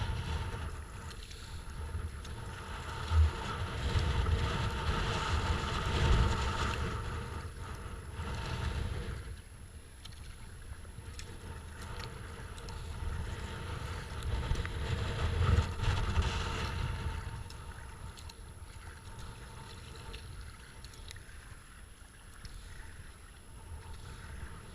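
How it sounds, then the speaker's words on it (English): Steady wind buffets the microphone on the Avon/Swan River during a kayak trip from Walyunga toward Amiens Road, a continuous rushing roar that swells and eases in long gusts, with faint low thumps from the boat and no voices. "Wind."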